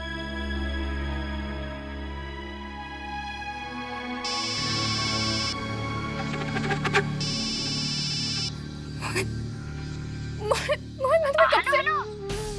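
A phone rings in a domestic TV drama scene, two bursts of electronic ringing over background music, followed by other tones and a brief voice.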